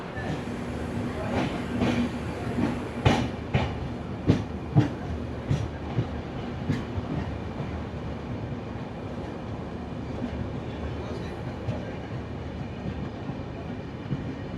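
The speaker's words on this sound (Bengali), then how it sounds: "এখন সাক্ষীগোপাল থেকে ছাড়লো পুরীর উদ্দেশ্যে ট্রেন।" The Puri Garib Rath Express rumbles along the rails after leaving Sakshigopal for Puri, with a rhythmic clickety-clack of wheels over track joints, loud and close, then settling into a steady roar.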